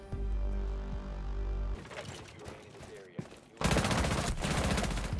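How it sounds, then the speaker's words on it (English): Gunfire in the video game Rainbow Six Siege bursts out in rapid volleys, with loud, dense firing in the final second and a half over game sounds. "Shots fired."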